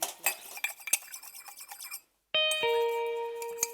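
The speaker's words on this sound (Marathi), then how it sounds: "तुमच्या बायकोला सांगा हळू भांडी घासायला माझे कान दुखतायत" Pots and dishes being scrubbed and washed, with loud clattering, scraping and clinking metal and ceramic, then a brief silence before ringing metallic tones sustain and fade.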